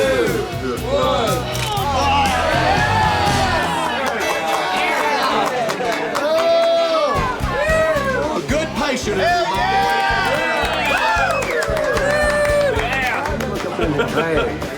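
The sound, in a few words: crowd cheering at a bike rally countdown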